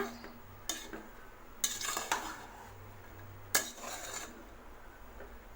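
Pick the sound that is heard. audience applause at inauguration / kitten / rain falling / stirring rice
stirring rice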